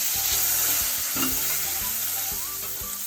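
Peanuts and carrot frying in a pan for avalakki bisibele bath, a steady close sizzle under scattered clinks and scraping stirs, with no one speaking.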